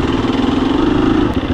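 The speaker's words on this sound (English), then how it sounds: "Another thing I'm not used to on the four stroke is engine braking" Four-stroke dirt bike on a trail, engine braking while descending, a loud close, steady throbbing engine drone with no break throughout.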